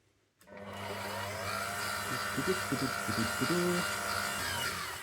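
An electric mixer starts abruptly and runs on as a steady motor whine, straining slightly as it works low-carb dough made from vital wheat gluten, lupin flour and oat fibre.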